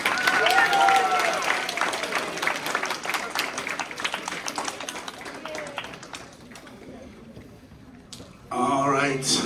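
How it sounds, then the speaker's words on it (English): Applause from an audience for Team 3 at a summer math league tournament, clapping and crowd noise loud at first and gradually thinning out, then a burst of other sound near the end. "this is Team 3. Please give them a round of applause."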